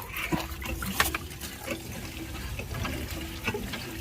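Tap water runs steadily into a bucket as sugarcane pieces are washed, a continuous splashing flow with a few louder knocks and clatters over it.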